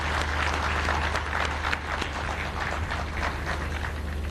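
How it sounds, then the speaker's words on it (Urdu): An audience at an official event in Punjab where Chief Minister Maryam Nawaz gives a speech, clapping in a dense, steady round of applause that fills the room from start to finish. "میں یہ چاہتی ہوں کہ آپ سب میرے ساتھ مل کے تالیاں بجائیں۔"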